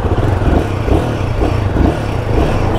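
A Royal Enfield Himalayan 450 cruises in fourth gear at around 65 km/h on a road leaving the city, its engine drone steady and close, with wind rush and road rumble.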